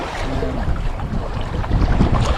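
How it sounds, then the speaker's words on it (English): A sailboat runs downwind parallel to the shore, with wind gusting across the microphone, water sloshing against the hull from small waves, and the rushing growing louder toward the end. "So now we're running parallel to the shore with the wind behind and some really nice little waves to catch"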